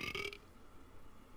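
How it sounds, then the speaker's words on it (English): A burp lasting about a third of a second sounds up front during a Rocket League match, then quiet game ambience carries on with no talking. "Just with a good old burp."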